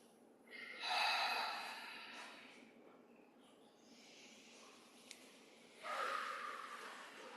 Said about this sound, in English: We inhale to the center, exhale.